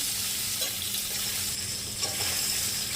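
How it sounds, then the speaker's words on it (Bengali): Potatoes sizzle and spit steadily in a hot pan with a little salt, a constant bright frying hiss with no voices. "এরকম লাল লাল করে আলুগুলোকেও ভেজে নেব"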